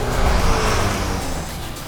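A BMW M2 CS with a 3-litre twin-turbo inline-six drives on a mountain road, giving a steady, loud engine drone that holds throughout, with no talk.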